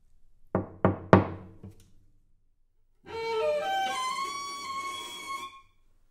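Three sharp knocks on a wooden stable door, close and distinct, followed by a pause and then a sustained bowed cello phrase.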